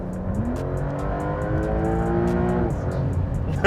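A Porsche Turbo S engine revs up steadily as it accelerates hard on a motorway, the pitch climbing, then drops off as it shifts; close and loud, no talking.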